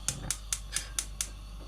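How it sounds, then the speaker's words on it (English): Six rapid, evenly spaced sharp ticks from a gas stove's igniter clicking as the burner is turned on, fairly quiet and close, with no other sound around them. "turn my gas on"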